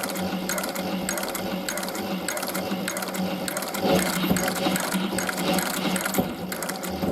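A sewing machine stitches a raised leather belt with a rapid, rhythmic mechanical clatter of needle and gears, close but fairly quiet, running in bursts that grow slightly louder midway.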